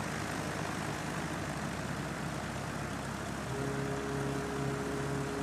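Aircraft engine in Flight Simulator X during a landing at Sumburgh, Scotland: a steady, fairly quiet droning hum with no breaks and no talking.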